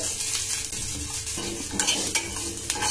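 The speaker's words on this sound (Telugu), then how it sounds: "ఇలా మొత్తం అంతా కలుపుకొని వేయించండి" Peanuts, coconut pieces and roasted gram being stirred and roasted in a pan for peanut coconut chutney, a busy close rustle and scrape of a spatula over a light sizzle, with no talk.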